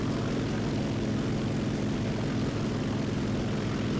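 A propeller plane engine in War Thunder flies close overhead, a loud, steady droning roar that fills the whole moment without talk.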